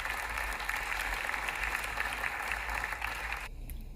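An audience applauds a Prime Minister's entrance in Australia, a steady wash of clapping that drops off sharply near the end.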